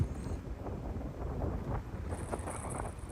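Wind gusting across a wide-open, exposed coastal golf course at Sheep Ranch, Bandon Dunes, a steady low rumbling roar buffeting the microphone throughout, with no voices.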